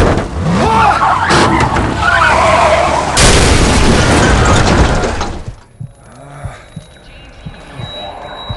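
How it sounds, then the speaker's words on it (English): A heavy truck crash in the game Into the Dead 2: a loud roaring impact with grinding and shattering debris, then quieter clattering and scattered knocks as it settles. "Oh, the truck's wrecked."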